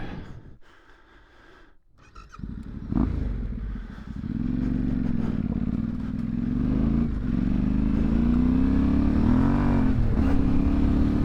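A Yamaha Tenere World Raid motorcycle on a green lane starts with a few clattery bumps, then its engine rises into a loud, sustained drone whose pitch climbs and wavers as it accelerates along the track.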